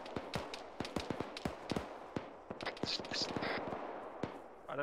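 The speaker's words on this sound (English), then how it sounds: "Definitely hearing shots back behind it." Distant gunfire during a military field training exercise: a dense, irregular string of sharp cracks and pops, some closer and louder, others faint, over a steady outdoor background.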